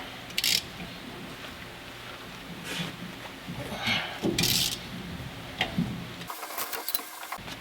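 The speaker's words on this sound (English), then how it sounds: "Now I can take these 9/16 bolts off." A ratchet works 9/16 bolts loose on a Dodge Dakota during a coilover install, giving bursts of clicking and metallic scraping at close range over a low background hum.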